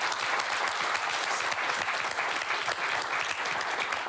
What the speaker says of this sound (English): please give a quick round of applause to Fred